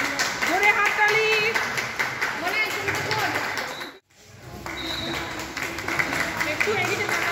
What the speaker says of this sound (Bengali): ধরে হাততালি